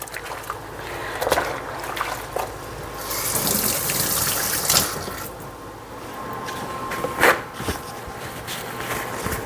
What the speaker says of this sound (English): Give my hands a quick rinse.